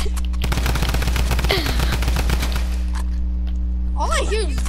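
Rapid automatic gunfire from a drum gun in Fortnite, with dense repeated bursts filling most of the clip over a steady low hum, then easing off toward the end.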